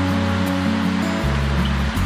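A waterfall gives a steady, even rush of falling water, continuous and fairly loud, with a low tonal drone underneath and no voices.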